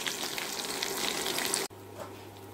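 Onions sizzle loudly in a pan for mutton bone gravy, a bright continuous hiss that cuts off abruptly partway through, leaving a quiet low hum.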